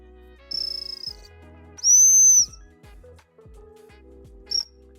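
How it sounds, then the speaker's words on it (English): Sharp, high-pitched dog training whistle blasts for a young cocker spaniel, a short trill followed by a louder steady tone and a brief final chirp, with faint room noise between. "The hump whistle is always the release."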